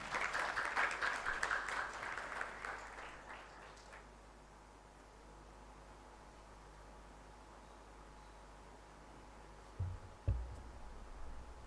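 A lecture audience applauds a High Court judge, a dense burst of many hands clapping at once for about four seconds before fading, then a quiet hall with a faint low bump near the end.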